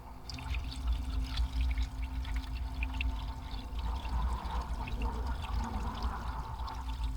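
Water pours steadily into a pan for several seconds, a continuous close splashing flow with no talking.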